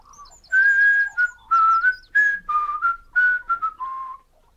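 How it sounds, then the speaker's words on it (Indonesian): A man whistles a cheerful, melodic tune in short phrases with brief pauses while working in a garden, the whistling clear and close with no talk over it. "bekerja di kebun sambil bersiul"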